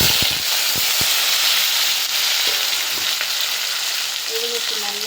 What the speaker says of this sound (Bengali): অর্ধেক সেদ্ধ করে রেখেছি, লাল লাল করে ভেজে নিই।